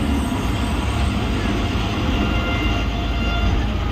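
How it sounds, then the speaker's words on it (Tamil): A steady, loud rumble of a Vande Bharat Express train at Dindigul railway station, broadband and continuous with low-frequency hum throughout. "வந்தே பாரத் எக்ஸ்பிரஸ் இருக்கு பாருங்கள்."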